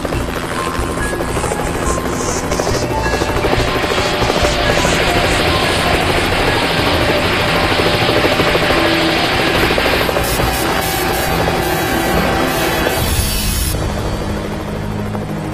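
Loud, continuous helicopter rotor thudding and engine whine close overhead beside high-voltage power lines, holding steady throughout with a high buzzing layer.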